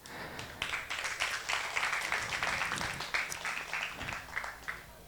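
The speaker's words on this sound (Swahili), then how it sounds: "Pasta anapokaribia hapa mpige makofi kidogo." Wedding guests at an elegant traditional Congolese ceremony applaud as the pastor comes forward. The crowd gives a steady, moderately loud round of clapping that swells and then tapers into scattered claps, with no voices.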